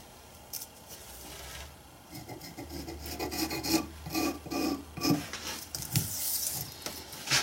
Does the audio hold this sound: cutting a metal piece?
yes